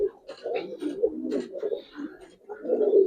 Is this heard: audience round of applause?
no